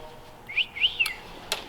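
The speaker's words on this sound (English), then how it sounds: "Old wolf whistle." An old wolf whistle sweeps up and then down in a clear, fairly loud call, followed by a couple of sharp clicks.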